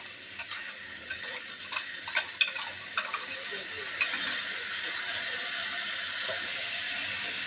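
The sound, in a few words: stirring tomato-chili paste into curry in a pan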